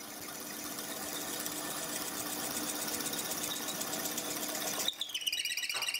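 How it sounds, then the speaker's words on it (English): A metal lathe drills with a bit held in the tailstock, a steady hum with a faint whine building slowly at low speed, then the tone shifts abruptly near the end. "we start to drill. Don't want too much speed, it will help keep the noise down."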